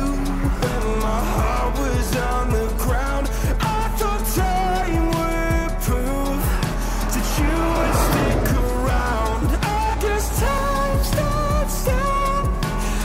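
A new Yamaha NMAX scooter rides a curvy mountain road near Olongapo, its engine and road noise loud and continuous, rising and falling through bends.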